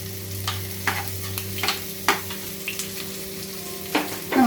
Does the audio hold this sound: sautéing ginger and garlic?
yes